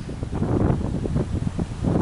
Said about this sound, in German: Jetzt kommt der Wind und man versteht mich nicht.